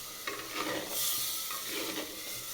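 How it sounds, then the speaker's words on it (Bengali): Tomato paste and spices stirred in a hot pan for a chicken masala, with a steady soft sizzle and scraping stir strokes close by, no voices. "এবার বন্ধুরা হালকা হালকা কষিয়ে নেব"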